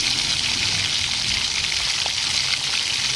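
Chopped onion sizzles in hot oil with cumin, Byadgi chilli and curry leaves while horsegram saaru is being cooked, a steady close hiss of frying with fine crackling and no talking.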